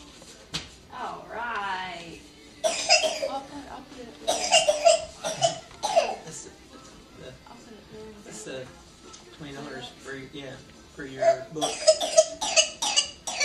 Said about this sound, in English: You shake that cough?